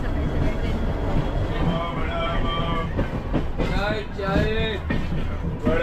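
A passenger train on the Mumbai to Konkan route rolls along with a constant rumbling clatter of wheels and carriages, while voices talk and call out over the noise close by.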